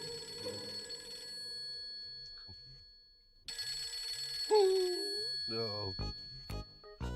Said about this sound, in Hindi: रेहान को फोन करती हूँ